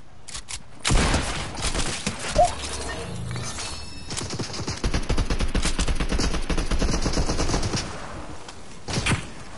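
Rapid video game gunfire rattles in dense bursts, sharp repeated shots with crashing impacts running almost continuously, loud and close, with a few isolated louder cracks.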